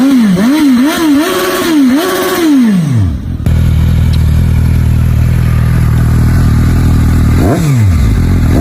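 A Suzuki GSR400 four-cylinder 400cc motorcycle engine revs loudly and close in several quick rising-and-falling bursts, then drops into a steady rumbling idle with one short blip near the end.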